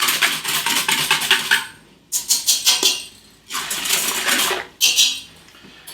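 Softened butter beaten into milk in a bowl, heard as rapid rhythmic clattering bursts of a whisk or fork against the bowl, separated by brief pauses, with no speech.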